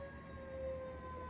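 An emergency vehicle siren near a hospital holds a steady tone at a distance, faint under a low background hum with no one speaking.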